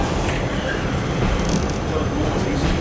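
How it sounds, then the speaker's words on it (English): Cross-country HST diesel train standing at a station platform, heard as a steady, loud rumble of idling engines and rail noise with continuous low-frequency drone throughout. "There's a cross-country HST in the platform just over there."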